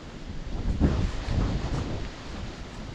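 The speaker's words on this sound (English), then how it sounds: "You hear the water running through the channel just over that wall." Water rushing along a stone channel beside a wall, quickening toward a waterfall on Mill Gill near Askrigg; a steady, moderately loud broadband wash with slight swells and no voices.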